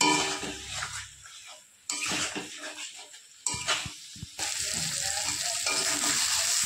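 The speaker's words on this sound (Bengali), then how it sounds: "মশলাগুলো ভালো করে আমি কষিয়ে নেব" Spices and chopped tomato fry in a pan, making a loud crackling sizzle that stops and starts abruptly as the pan is stirred, with a few scrapes and clanks.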